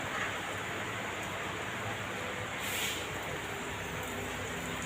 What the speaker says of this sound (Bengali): অবিরাম বৃষ্টি ধরে, ও দেখুন। তবে বৃষ্টির গতিটা এখন একটু কম।